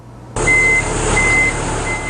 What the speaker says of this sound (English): The truck carrying the rice arrives at Marillac Hills.